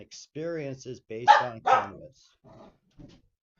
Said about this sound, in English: That's my dog. She gets pretty excited sometimes.